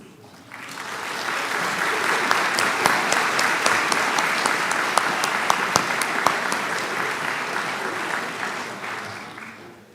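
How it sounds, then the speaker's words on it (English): An audience at a school awards night and national honors ceremony applauds, sustained dense clapping that swells quickly, holds steady with a few sharp louder claps, then tapers off near the end. "join me in giving them a round of applause"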